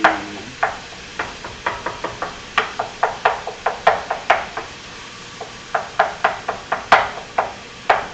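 A utensil chops and breaks up ground taco meat in a pan, sharp repeated knocks and scrapes in an irregular steady rhythm, close and fairly loud, with no talk.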